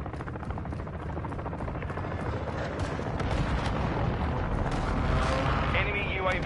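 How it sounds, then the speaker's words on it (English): Dense, continuous roar of video game precision airstrike explosions and rumbling booms, loud and sustained throughout with a swelling rush near the end, no speech over it. "Friendly precision airstrike inbound."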